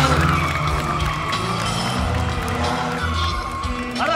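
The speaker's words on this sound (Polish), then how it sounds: "Nela zaparkuje teraz między samochodami." At a stunt show, a car maneuvers between parked cars to park, with sustained engine drone and tire noise, a sharp squeal near the end, amid crowd murmur and an announcer's voice over a loudspeaker.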